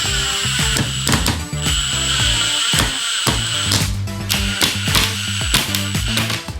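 A power drill driving screws into 2x4 backing boards behind drywall, loud close bursts of motor whine starting and stopping in short runs, with clicking and knocking between them.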